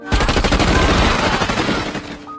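Rapid sustained gunfire from a Vietnam War film, with dense overlapping bursts of shots rolling continuously for a couple of seconds, loud and close, then tapering slightly at the end.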